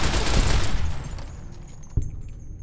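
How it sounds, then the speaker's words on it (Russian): Burst of rapid gunfire in Fallout: New Vegas, loud and dense at first, then thinning to scattered shots, with one sharp single report near the end. "Кто у меня тут стреляет?"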